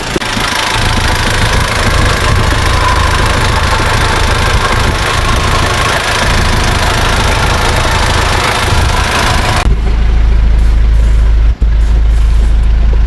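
An Isuzu Trooper SUV diesel engine, first start after a top overhaul, runs loud and steady with a rough, knocking idle, then the sound shifts abruptly to a deep, low rumble.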